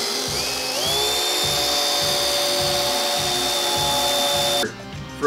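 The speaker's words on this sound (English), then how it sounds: "We're gonna take that 1/8 inch bit and we're gonna drill" A drill spins a 1/8 inch bit into a splitboard insert, giving a steady high-pitched whine that rises in pitch at the start and runs for several seconds before cutting off abruptly.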